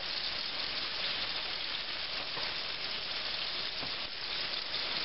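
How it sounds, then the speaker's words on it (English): Pork chops fry in hot oil with a steady, dense, close sizzle and crackle that holds evenly throughout, no voices. "we're just going to drop our pork chops right in there, nice and hot"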